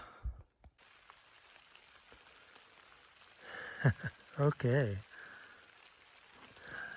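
Rain pattering on a tarp shelter pitched on a hiking trail in Olympic National Park, a soft steady hiss throughout, with a person speaking briefly partway through.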